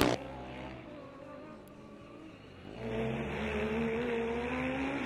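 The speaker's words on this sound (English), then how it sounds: "That's Chalmers coming in over the start finishing line with 77, Munich straight behind them." A Formula Student race car during an endurance event crosses the start-finish line, its engine humming steadily and then swelling louder as it accelerates past, with no talk.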